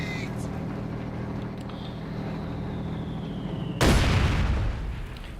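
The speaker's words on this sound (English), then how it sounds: "There we go, more mortar fire." Mortar explosion in the video game Company of Heroes 2: a sudden loud broadband blast near the end, ringing out briefly over a steady low rumble of battlefield ambience.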